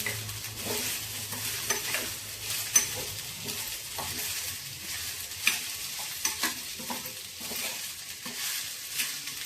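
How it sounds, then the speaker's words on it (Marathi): Soaked sago pearls being sautéed in a pan for a fasting curd dish, a moderate crackling fry with repeated stirring scrapes and taps at an uneven pace. "हा साबुदाणा आपण परतून घेणार आहोत"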